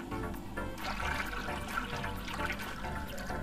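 Ordinary water pours from a Kangen water ionizer setup onto a green tea bag, a steady splashing stream running for several seconds at close range, with no talking.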